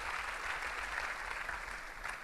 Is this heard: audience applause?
yes